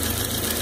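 A vintage Merrow serger sewing machine runs steadily while cutting off fabric scrap, giving a continuous close mechanical hum with a fast repetitive rhythm and no talking.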